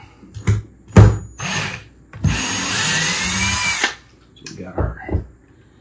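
Power drill backing screws out of a Ryobi 40V battery pack casing: short bursts of drill whine, then a steady high-pitched run of about a second and a half, close up, with someone talking briefly before and after.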